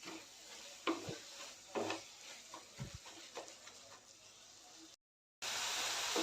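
Wheat-dough modak filling with grated nutmeg being sautéed in a pan: faint scraping and stirring with a few light clicks of a spoon against the pan, scattered irregularly over a quiet kitchen background.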